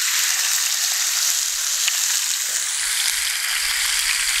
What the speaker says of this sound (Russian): Сейчас будем мясо обжаривать.